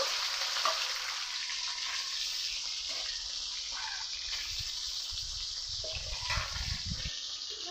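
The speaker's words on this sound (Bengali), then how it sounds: "বাকি মাছগুলো আমি ভেজে নিব" Magur catfish pieces fry in hot oil, giving a steady, close sizzle that runs throughout with occasional louder spitting bursts and faint stirring clatter, no voices.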